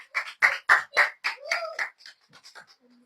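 A church congregation clapping and cheering in praise of the Lord, a run of loud close claps in quick succession that thin out into scattered softer claps and voices.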